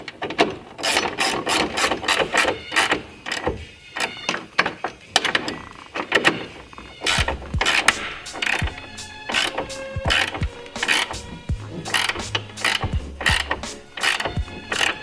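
A Sparco tow hook is threaded by hand into the front of a BMW E30 with quick bursts of metallic ratcheting clicks and scraping. Short pauses separate the bursts, and a few heavier clunks come near the end.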